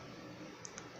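Two quick, light mouse clicks close together, faint and crisp against a quiet background hum, with no talking.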